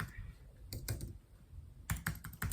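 Close typing on a computer keyboard, a few scattered keystrokes followed by a quicker burst of clacks over a low room rumble.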